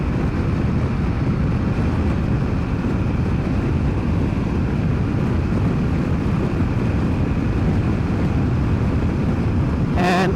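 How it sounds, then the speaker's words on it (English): Wind rushing past a rider on a BMW F900XR motorcycle on a gusty day, a loud, constant, dense roar with no breaks, engine and road noise buried beneath. "it is a pretty windy day. We have about 15, 16 miles an hour wind right now."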